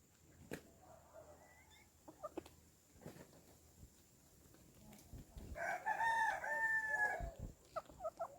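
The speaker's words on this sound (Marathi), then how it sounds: "कोंबडा बघा कोंबडा" A rooster crows loudly nearby, a long harmonic call near the end, with scattered clucks and soft thumps before it.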